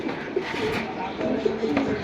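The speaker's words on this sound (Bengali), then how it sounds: "তারপরে এখানে একটা পেয়ার আছে ভাই গিরুবাস" At a busy pigeon market, a pair of Giribaz pigeons coo in soft, low murmurs, with voices talking nearby.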